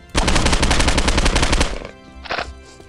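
Loud, sustained automatic gunfire from Postal 2, a dense rapid burst lasting over a second and a half, then a brief pause and one more short shot before fading.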